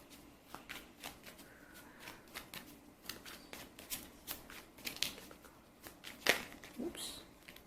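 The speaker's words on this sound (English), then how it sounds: "give me some time to shuffle and lay out the cards." Tarot cards being shuffled and laid out at close range, a run of quick papery riffles and soft flicks in an uneven rhythm, fairly quiet, with a sharper card snap near the end.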